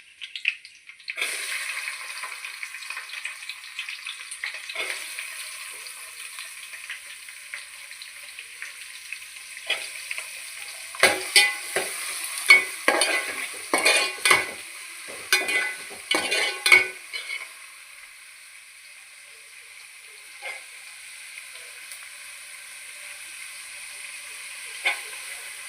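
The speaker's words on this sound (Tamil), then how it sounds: "இப்போ வெங்காயம் சேர்த்துக்கலாம்." Onions fry in a pan for fish curry, giving a continuous close hiss and sizzle, with a burst of scraping, clattering stirring in the middle before the sizzle settles back to a steady hiss; no voices.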